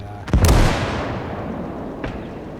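A mortar shell striking a mine in the Gates of Hell: Downfall strategy game, heard as one loud, close blast with a booming low-end tail, then a smaller distant thud near the end.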